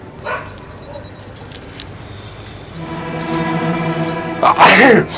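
A sharp, loud sneeze bursts out near the end, after a stretch of quiet background sounds and a faint voice.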